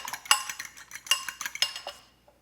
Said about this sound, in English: 1 egg, and I'm just gonna give that like a little bit of a scramble here